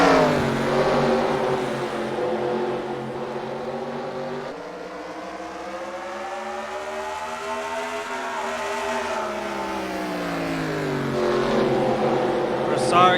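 Modified race cars pull away together at the green flag on the Oswego Speedway oval, a loud continuous engine roar rising and falling in pitch as the pack accelerates, with announcer talk running over it throughout.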